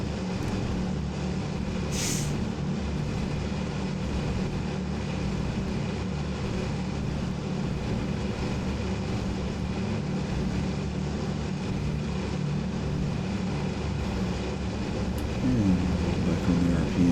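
Steady, loud drone of the Consolidated PBY propeller flying boat's engines in Microsoft Flight Simulator, a continuous rumbling hum with no talk over it.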